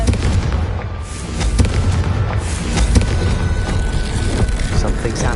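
A Confringo blasting spell explodes in a Harry Potter game, producing a dense, continuous rumble of booming bursts and crackling debris that stays loud and close throughout.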